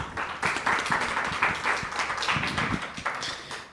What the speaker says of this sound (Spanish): Un aplauso para Ronald Céspedes.